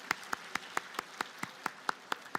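A church congregation at a Sunday service claps in unison, about a dozen sharp, evenly spaced claps in a quick steady rhythm, fairly faint and with no talking.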